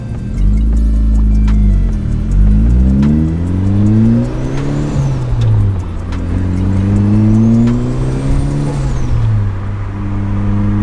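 A loud turbocharged NB Mazda Miata engine revs up through the gears, its exhaust note rising and falling steadily as it accelerates, heard from inside the car.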